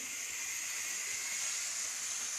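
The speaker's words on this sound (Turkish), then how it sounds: "Bu BR86 siyah olan eski moda buharlı tren." A BR86 model steam locomotive on a digitally controlled model railway gives off a steady, faint hiss of simulated steam that holds constant without pauses.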